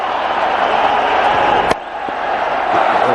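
A cricket stadium crowd roars with cheering and clapping after a six, a dense, steady wall of noise throughout with one sharp crack partway through.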